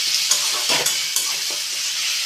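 Onion paste hits hot oil for a fish curry with a loud, steady sizzle and hiss, stirred now and then, close and continuous with no talking.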